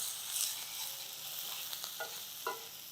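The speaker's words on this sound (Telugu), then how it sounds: "ఉల్లిపాయలు వేగిన తర్వాత" Chopped onions frying in oil in a pan, with a continuous crackling sizzle and a few light stirring scrapes, close and alone.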